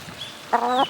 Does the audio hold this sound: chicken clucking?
yes